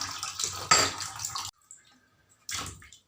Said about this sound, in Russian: Лишнюю воду сливаем, чтобы при монтаже у нас ничего не вытекло